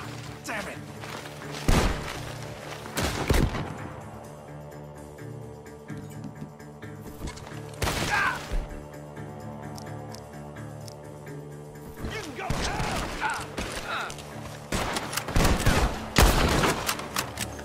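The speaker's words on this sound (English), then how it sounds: "The gunshots are coming from that barn!" Bursts of gunfire in the video game Red Dead Redemption 2 crack out in clusters over a steady droning soundtrack, with loud sharp shots and scattered impacts, sometimes beneath voices.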